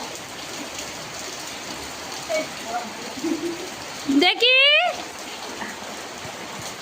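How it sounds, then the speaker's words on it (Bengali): Steady rain hisses in the background while a person talks briefly over it, with a short tonal squeal partway through. "দেখো বৃষ্টি হচ্ছে কেমন"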